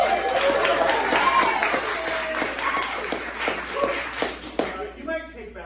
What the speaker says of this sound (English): You might take back that applause